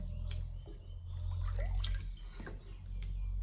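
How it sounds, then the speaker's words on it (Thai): Warm syrup water pours and trickles down, a soft continuous liquid flow with small drips, heard close up and quiet. "แล้วก็เติมน้ำไปเรื่อยๆนะคะ"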